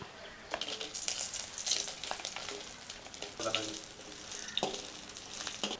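Dried red chillies fry in hot oil for an old-style sambar, a steady soft sizzle with scattered crackles and stirring scrapes close by.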